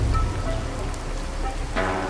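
Steady heavy rain pours through a stormy night in a horror story, a dense continuous hiss with a low rumble, loud and unaccompanied by talk.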